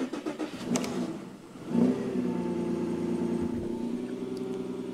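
A Porsche Cayenne engine cranks and catches with a brief rev after a battery change, then settles into a steady, even idle that hums on.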